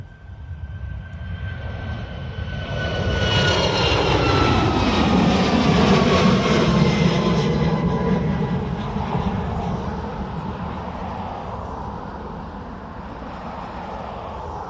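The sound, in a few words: WestJet airliner departing for Toronto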